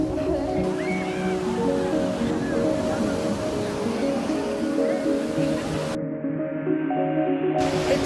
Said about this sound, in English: This beautiful beach along the side of Arabian Sea is one of the major attractions here in Trivandrum